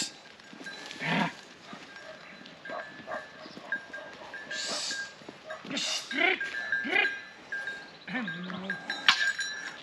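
Sheep on a mountain trail at Kuş Tepe in Bursa let out several nearby bleats and moaning calls, scattered irregularly, while hikers talk and laugh close by.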